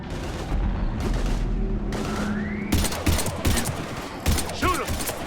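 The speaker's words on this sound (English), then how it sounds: "I've got Lieutenant Vega with me, but we're taking heavy fire." Heavy gunfire in the video game Mass Effect 3, with dense bursts of automatic fire and sharp shots running across the scene over a rumbling low backdrop, loud and close.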